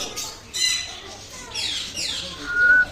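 Ducks at a bird park give a few squawking, nasal calls at close range, with other birds chirping around them and the sounds rising toward the end.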